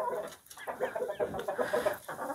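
Shamo chickens cluck softly and continuously in a backyard coop, a faint, busy stream of low clucks with no talking.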